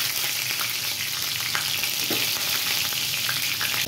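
Cumin seeds and two green chillies fry in hot oil in a heated kadai, a loud, dense, continuous sizzle with light crackles throughout and no voice.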